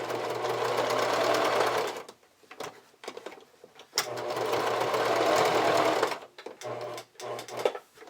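A sewing machine stitches the fold-over elastic straps onto a Belle Girls camisole in two long, steady running bursts, each ending in a stop, with short start-stop runs and light handling noise between.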